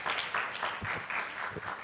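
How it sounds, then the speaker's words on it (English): Applause from a seminar audience honoring a team at a work readiness summer school, a short burst of steady, fairly close clapping throughout with no talk over it. "Another round of applause to the entire team."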